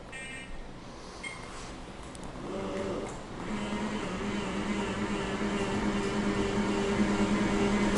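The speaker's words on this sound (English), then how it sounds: "That's a perfectly normal noise for that seat lift." The seat lift on a Jazzy 1103 Ultra power chair lowering, a steady low electric motor hum and whine that slowly grows louder over several seconds, heard close and alone.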